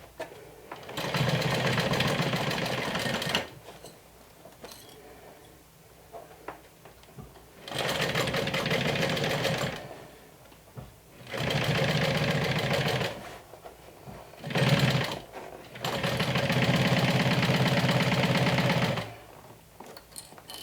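A sewing machine stitches slowly through several thick fabric layers of a medium crossbody tote, running in four long steady bursts of loud mechanical whirring separated by short pauses and a brief stutter.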